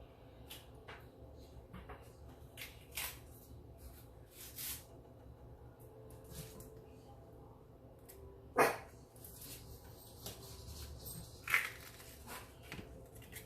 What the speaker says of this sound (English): Dogs are excited because they think they're going to get some beef stew as well.